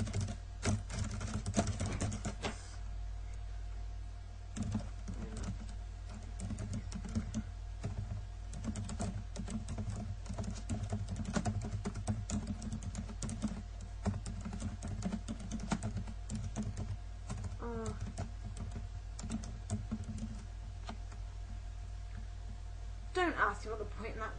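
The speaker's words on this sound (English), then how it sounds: "Don't you just think that typing sounds sexy?" Steady, rapid clicking of fingers typing on a computer keyboard, close and continuous with brief pauses, over a low background hum.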